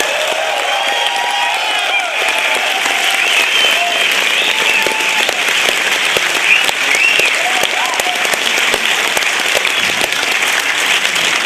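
Sustained applause from a theater audience at the Fantasia 2007 film festival before a screening of Hatchet: dense, steady clapping throughout, with a few voices and cheers mixed in.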